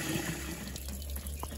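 Water pours from a leaky bucket onto a compost pile outdoors, a continuous close splashing and trickling rush with a few brief spatters, no voices.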